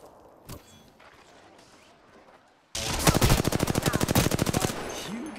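Apex Legends gunfire bursts out after a quiet stretch: a loud, rapid automatic stream of shots in quick regular rhythm, following soft background game noise.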